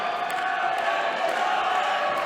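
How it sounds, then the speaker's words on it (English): Wrestling arena crowd at a Wrestle Rampage match between Dusk and Knight, a sustained, moderately loud wash of cheering and shouting voices with no single voice standing out. "Listen to this crowd here."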